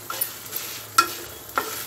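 Spices are fried and stirred in a pan while masala is prepared for a mutton curry: a few soft, scattered scraping taps from the stirring over a faint, quiet sizzle.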